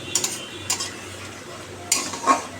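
Pabda fish fries in oil in a pan, with a few short bursts of sizzling and the clink of a utensil stirring, fairly close and without talk.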